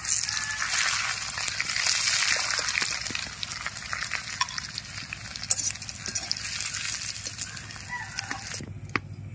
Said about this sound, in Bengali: ওই একই তেলের মধ্যে ডিমগুলো ভেজে নেব।